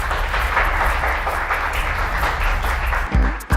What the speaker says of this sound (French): On applaudit Tania pour.